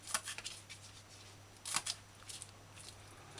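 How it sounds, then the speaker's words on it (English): Knife dicing a scallion on a cutting board, quiet crisp chopping ticks in short irregular bursts, close and faint over a low steady hum. "dice scallion fine."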